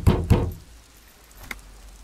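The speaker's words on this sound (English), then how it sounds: "Knock." Knocking on a door in the video game Disco Elysium: two close, heavy wooden raps in quick succession, followed by near quiet with one faint later tap.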